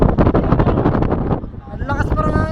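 Strong wind gusting across the microphone at a high amusement-park spot, a loud continuous buffeting roar, with people's voices heard briefly near the end.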